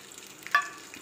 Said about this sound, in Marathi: तेल कडू द्यायचं आणि याला घालते मिरची